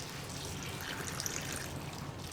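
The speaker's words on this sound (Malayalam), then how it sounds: "അതുപോലെ തന്നെ ചക്ക കുക്കാവാൻ ആവശ്യമായ വെള്ളം ഒഴിച്ചു കൊടുക്കുക." Water poured into a pan of cut jackfruit on the stove for cooking, a steady soft trickling stream running evenly throughout, fairly quiet with no talk.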